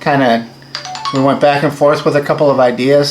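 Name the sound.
mobile phone ringing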